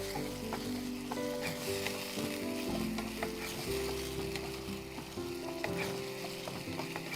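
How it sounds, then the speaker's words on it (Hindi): Yogurt-based gravy for a paneer dish sizzles steadily in a pan while being stirred, a continuous frying crackle with scraping strokes over a sustained tonal background and no talking. "अब इसमें हम डाल देंगे दही। दही डालकर मिक्स कीजिए।"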